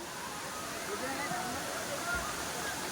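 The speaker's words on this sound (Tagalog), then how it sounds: "nani kanindo to ang Tinago Falls." Tinago Falls roars as a steady broadband rush of falling water, filling the whole moment with a constant wash while a person talks over it nearby.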